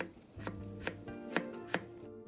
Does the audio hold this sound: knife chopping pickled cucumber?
yes